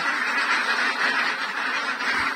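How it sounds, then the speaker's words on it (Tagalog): A crowd of ducks in a newly renovated duck house gives off a continuous, dense chorus of overlapping honking quacks, loud and close, with no speech. "Tingnan yung mga itik natin."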